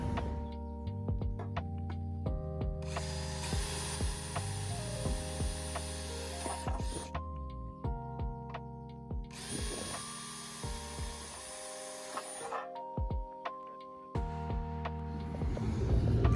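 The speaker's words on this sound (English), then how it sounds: "Let me get these drilled out. We'll cut out those 1-inch holes" Power drill with a 1-inch hole saw cutting aluminum, sounding in two long grinding, buzzing runs with motor hum and clatter between them, moderately loud and with no talk.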